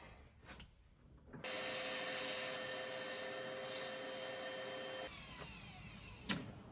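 A Graco QuickShot handheld paint sprayer switched to suction mode pulls paint back through, giving a sudden loud steady whine that starts after a quiet moment, runs several seconds, then drops to a lower hum, with a brief knock near the end.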